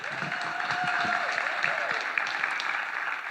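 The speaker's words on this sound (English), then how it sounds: "Round of applause, Paul and Willow." Audience applauding two presenters at a talk, a continuous dense clatter of many hands heard from amid the crowd, steady throughout, with a whoop or cheer mixed in briefly.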